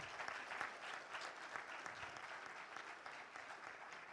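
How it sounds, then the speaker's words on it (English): An audience at a commemoration event gives a round of applause to a panel, a steady dense clapping sustained for several seconds, moderately distant. "Can we give a round of applause to our panel?"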